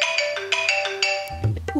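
A mobile phone ringtone plays a repeating bright electronic melody in short rhythmic phrases, then cuts off into a brief low thump and rustle.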